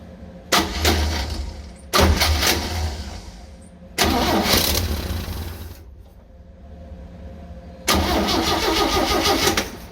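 A 1966 Chevy van engine, tested after a fuel pump check with fuel feeding the carburetor, cranks in four loud, close bursts separated by brief pauses, catching and running roughly during the later attempts.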